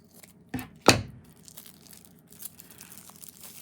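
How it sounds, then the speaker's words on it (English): A card pack is cut open with scissors, giving two quick sharp snips followed by soft crinkling of the wrapper, close and quiet with no talk. "there's my scissors. This did not have an easy to tear open card pack."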